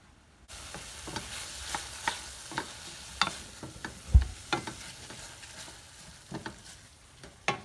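Garlic softening in a pot for a chorizo and pea risotto, stirred with a utensil: scattered scraping clicks and soft knocks over a faint, steady low simmer, close by with no talk.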